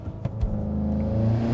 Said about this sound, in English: we'll do a little brake stand. Get to 3000.